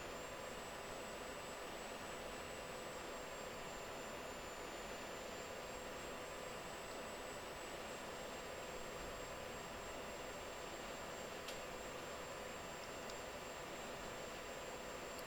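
Steady roar of a jet aircraft engine held at 82% throttle during an EPU check, a constant loud broadband rush with a faint high whine running throughout.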